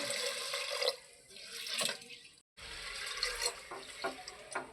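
Water is poured onto soaked green gram and dal, making a splashing, trickling rush that breaks off once, then resumes with small drips and gurgles.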